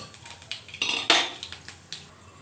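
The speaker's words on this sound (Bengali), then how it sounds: "এবার ডালটাকে দিয়ে দেবো।" Lentils (dal) added to a pot after a tempering of chilli, bay leaf and spices: a short run of clattering, rattling impacts and metallic clinks, loud and close, no talk.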